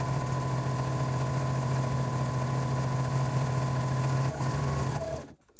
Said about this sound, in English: I'm going to sew straight down that one side, and I'm not going to backstitch here.